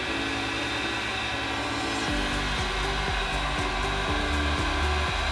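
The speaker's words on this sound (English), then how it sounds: "The other thing to be careful when you're using your heat gun is remember not to touch the tip." Heat gun blowing while Veraform is softened and shaped for a model cell tower: a steady, loud whooshing roar of hot air with an electric whine, continuous throughout, wavering slightly in pitch partway through.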